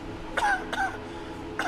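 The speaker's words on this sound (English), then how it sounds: "Coughing is heard from the back of the bus." Someone at the back of a bus gives two quick throaty coughs, then a third, over a steady low engine rumble.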